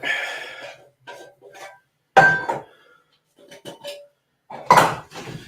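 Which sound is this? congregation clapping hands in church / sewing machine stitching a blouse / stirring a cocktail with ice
stirring a cocktail with ice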